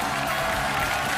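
Applause welcoming the fourth contestant onto the stage of a televised Chinese talent show, a steady, dense wash of clapping from a studio audience that holds evenly throughout without a break.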